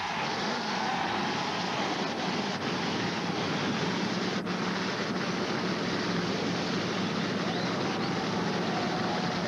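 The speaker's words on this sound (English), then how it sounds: "The field roars to life as we get set to continue a Labor Day weekend tradition" A full field of NASCAR Winston Cup stock cars fires up at Darlington for the 1991 Heinz Southern 500, a dense continuous roar of many engines blending into a loud, unbroken wall of sound with no talk.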